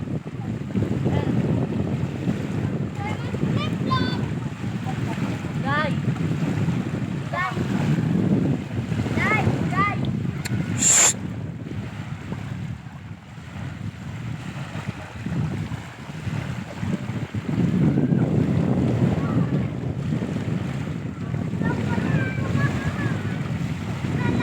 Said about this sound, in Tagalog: Napakataob ng dagat ngayon.